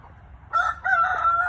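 A chicken gives a short, loud crowing call in two bursts, close by, with no talking.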